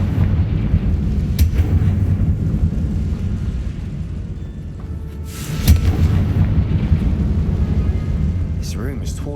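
Confringo blasting spell in Hogwarts Legacy bursting with a loud, low boom around the middle, set amid a continuous rumbling game soundscape with brief crackling bursts before and after.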